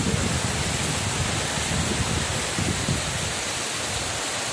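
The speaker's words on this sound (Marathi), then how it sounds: "या इथं तुम्ही पाहू शकता किती जोराचा पाऊस चालला" Heavy monsoon rain pours down outdoors as water pools everywhere, a loud, dense, unbroken roar that holds steady throughout with no voices.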